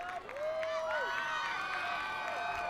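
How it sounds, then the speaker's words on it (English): A crowd cheers and shouts around an American Ninja Warrior course at the Venice Beach qualifiers, high voices and whoops carrying over sustained applause. "Maya cheering her mom on."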